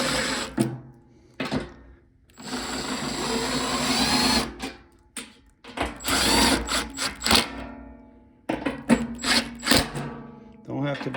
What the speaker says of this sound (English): So secure your motor bracket now.